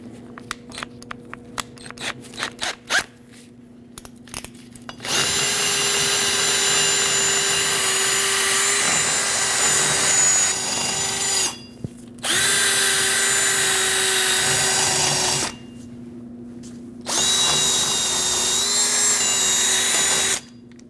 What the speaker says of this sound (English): you can use a wire brush or a wire wheel to get the rest cleaned up